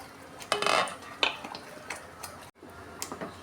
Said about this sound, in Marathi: पाच मिनटं झाली आहे पण हे काढूया झाकण